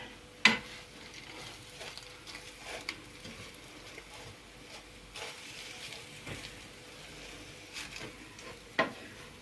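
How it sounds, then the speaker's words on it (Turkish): Filling for Dubai chocolate is stirred and toasted in butter in a pan, producing a soft continuous sizzle with occasional scraping knocks from the spoon, fairly quiet and close, with no talking. "Şimdi yağla beraber ben bunu karıştıra karıştıra kavuracağım"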